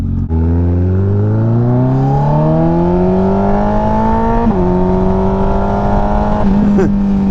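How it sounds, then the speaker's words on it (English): A Kawasaki ZX14R motorcycle with a VooDoo aftermarket exhaust revs up loud and close, its pitch climbing smoothly over several seconds, then settling into a high steady hold with a brief dip and a second throttle blip near the end. "it definitely will pick up in tone as you lay on the throttle"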